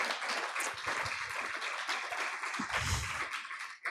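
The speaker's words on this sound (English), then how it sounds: "We can give them a round of applause." An audience at a community forum applauds the presenters, a quiet, fairly distant patter of clapping lasting a few seconds with some faint room noise mixed in.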